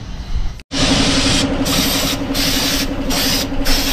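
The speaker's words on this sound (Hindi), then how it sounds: "तो रगड़ाई कर रहे हैं" Continuous harsh rubbing and scrubbing on the rusty metal body of a Scorpio car, loud and close, with a brief break near the start and a rhythmic back-and-forth scraping texture.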